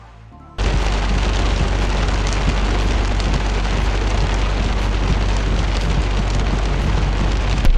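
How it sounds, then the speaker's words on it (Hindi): After a brief quieter moment, heavy rain with light hail near Chakrata in Uttarakhand suddenly swells into a loud, steady roar of drops beating close by. "बारिश तेज पड़ रही है"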